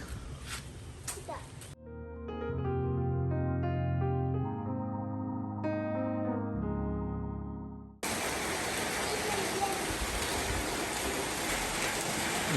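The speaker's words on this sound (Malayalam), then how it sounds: "ഉച്ചയ്ക്ക് ഫുഡ് അടി കഴിഞ്ഞപ്പോൾ നല്ല മഴ." Heavy rain on a Sunday afternoon in Kerala: after a stretch of music, a dense, even roar of downpour fills the last few seconds, loud and steady, with brief voices and noise at the start.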